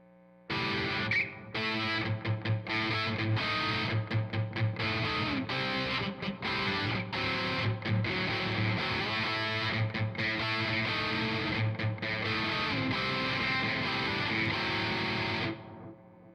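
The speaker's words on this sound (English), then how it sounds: "kick up the gain just a little more for a different sound sample, a little more buzz" A First Act ME301 electric guitar plays chords through heavy, buzzy high-gain distortion, strummed in bursts with short gaps, sounding thick and saturated.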